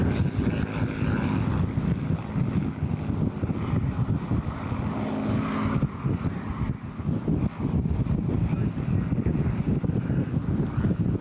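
A Spitfire propeller aircraft passes at an airshow in Eastbourne, a steady loud engine roar mixed with heavy wind noise that holds throughout and dips briefly midway.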